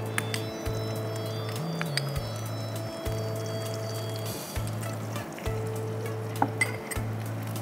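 Garlic and ginger paste sizzles steadily in hot oil, with a few clinks and scrapes from stirring over a low continuous hum.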